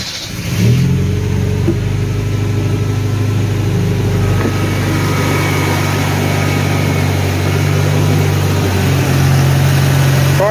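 A 1975 Chevy LUV pickup engine with a carburetor fault idles a little high after starting for the first time in years. It gives a loud, steady mechanical drone close by, with a slight rise partway through, and no one talks.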